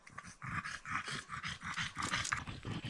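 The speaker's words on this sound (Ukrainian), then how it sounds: "собаки вже поруч ходять" A dog pants rapidly and steadily up close in a forest, a rhythm of short, rough breaths with no other sounds around it.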